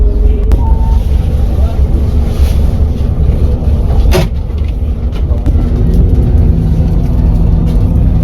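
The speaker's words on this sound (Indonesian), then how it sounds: "CBU lagi maju mundur, dia mau parkir ngetem dia susah" A CBU bus inches back and forth while trying to park and wait for passengers, its engine a deep steady rumble nearby, heavily buffeted by wind noise on the microphone.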